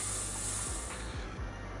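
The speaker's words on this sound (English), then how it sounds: "Here, have a taste of this special Bangboo spray." A steady, hissing spray sounds throughout in the video game Zenless Zone Zero as a special Bangboo spray is released, faint and continuous, with a few low thumps beneath it.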